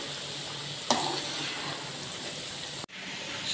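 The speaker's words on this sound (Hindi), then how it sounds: "सूजी आहिस्ता आहिस्ता से भुनना शुरू हो चुकी है" Semolina (sooji), a 1.5 kg batch, roasts slowly in a pan for halwa with a steady, soft sizzling hiss, broken by a brief click and a sudden dip near the end.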